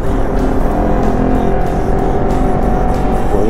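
A steady Honda motorcycle engine, a CBR250RR or CB400 Four, drones loudly at close range, holding a constant rumbling tone without strong revs.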